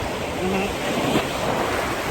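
Steady broadband wash of surf rolling onto a beach, continuous and fairly loud, with wind noise over the microphone and no clear talking.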